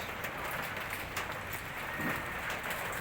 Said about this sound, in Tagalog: Come ice. Raining ice.